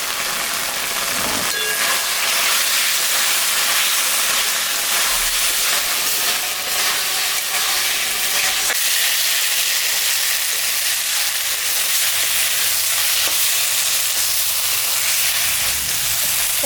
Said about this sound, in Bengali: তরকারিটা কষানো হয়েছে